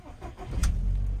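A Volkswagen New Beetle engine cranks and starts, a brief ignition burst followed by a steady low idle rumble close by, with no talking.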